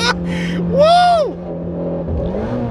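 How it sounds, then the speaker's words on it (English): A supercharged Shelby GT350 revs hard in first gear, its engine note rising in a sweeping whine and then falling away, heard up close alongside a voice and excited talk. "Let's give this sucker some gas. First gear."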